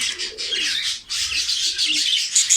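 A caught crested, rust-coloured Miro-breed pigeon calls up close: busy chirping and rustling fill the clip, with a few low soft coos underneath and no talking.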